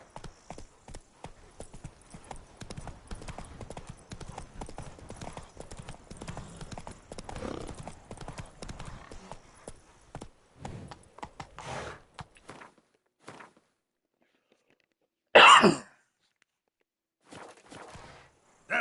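Hoofbeats of Roach, Geralt's horse in The Witcher 3, clop along steadily and close for the first ten seconds, then thin to sparse steps with a short loud burst near the end, a neigh or snort fitting in among them.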